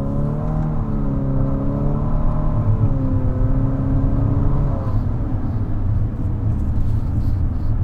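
A 2020 Infiniti QX50 engine accelerates inside the cabin, a continuous droning whir whose pitch rises and then drops back as it climbs, with road rumble underneath and no talking.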